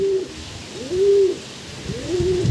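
Giribaz pigeons coo nearby, three drawn-out low calls rising and falling, with faint rustling in between.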